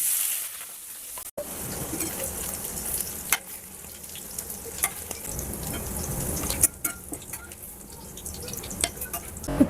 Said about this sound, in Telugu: పన్నీర్ వేయించుకుందామండి.